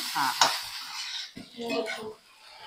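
Okra (bhindi) being lightly roasted in a pan, stirred with a spoon scraping and clinking against the metal, with a soft sizzle underneath; several close stirring strokes in bursts.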